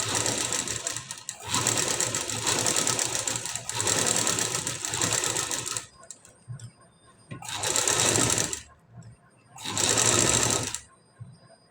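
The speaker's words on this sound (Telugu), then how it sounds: "ఇంత నెమ్మదిగా ఒక స్టిచ్ అయితే వేసుకుంటూ రావాలి" Sewing machine stitching slowly on cloth, running in several loud buzzing bursts separated by short pauses, up close, with a voice talking quietly in the gaps.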